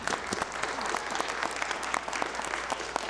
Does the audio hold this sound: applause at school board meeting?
yes